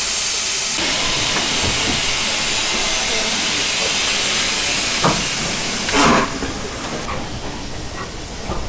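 Steam locomotive 75069 on the Severn Valley Railway near Kidderminster, a loud broad hiss of steam that runs steadily, with occasional clanks and a brief louder surge before it eases off.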